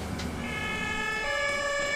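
Ambulance siren wailing in steady repeated tones, fairly distant and moderate in level, with no voices over it.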